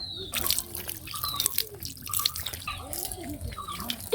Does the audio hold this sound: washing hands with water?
yes